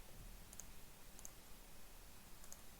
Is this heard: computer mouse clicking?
yes